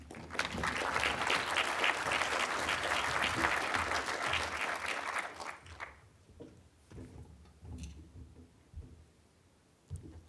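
Audience applause welcoming a speaker to the stage at an arts and culture talk. Steady clapping from a crowd fills the first half, then fades to scattered claps and room noise.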